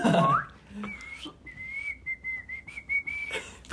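A person whistles a thin, wavering tone in short bursts, sustained and slightly unsteady, close by with no talking.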